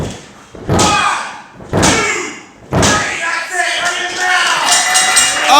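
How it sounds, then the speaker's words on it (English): A wrestler driven down onto the ring mat with a chokebomb at a CCW wrestling show, heard as loud, hollow slams with a booming thud, followed by crowd noise and an excited commentator talking. "Ike Watts gets the 3 off of the choke bomb"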